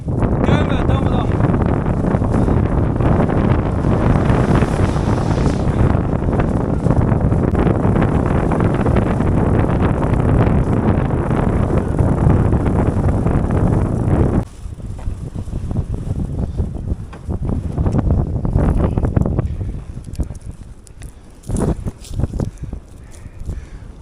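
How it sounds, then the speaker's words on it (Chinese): Strong wind roars against the microphone while cycling, loud and continuous for most of the clip before easing into gustier, uneven bursts toward the end. "大风一刮，难度加倍啊，根本蹬不动"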